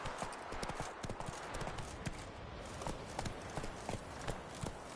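Horse hooves clip-clop in a quick, steady riding rhythm in The Witcher 3 video game, close and fairly quiet, continuing evenly throughout without any talking.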